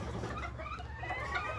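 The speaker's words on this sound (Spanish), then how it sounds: "Dos pollitas, ya casi gallinas, o ya gallinas ya empiezan a poner" Young miniature hens on a ranch breeding miniature chickens give soft, low clucks and murmurs, fairly faint and close against a quiet farmyard background hum.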